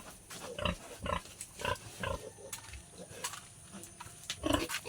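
Pigs grunting at feeding time in a dim rural pen, a run of close, repeated snorting grunts in an irregular rhythm, loud and alone with no talk.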